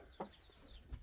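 Rooster clucking in a short burst near the start and another brief call near the end, faint against a quiet background, during neck exercises for fine-necked fighting roosters.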